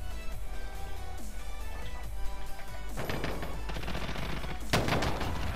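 Gunfire from a new gun in Call of Duty Modern Warfare on the Scrapyard map, with rapid bursts of loud automatic shots and sharp impacts over a constant low game rumble.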